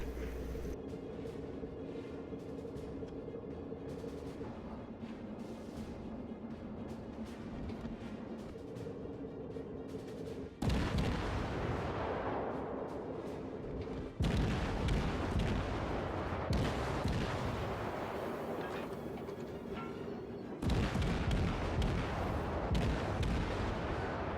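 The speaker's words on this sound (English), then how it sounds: "The rapid-firing deck guns of the Kuma damage the enemy." Rapid-firing deck guns on the Japanese cruiser Kuma in the World of Warships naval battle game, with a low engine hum under bursts of gunfire and several louder, sharper salvos that grow heavier later on.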